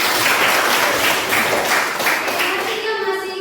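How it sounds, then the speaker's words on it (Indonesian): A classroom group claps together in dense, steady applause that fills the space for a few seconds before thinning out, with faint voices underneath. "Oke, tepuk tangan."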